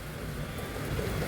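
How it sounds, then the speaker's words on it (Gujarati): Heavy rain pouring down outdoors, a steady dense roar of falling water with a low rumble beneath, continuous and fairly close. "હવે વરસાદ આવ્યો છે"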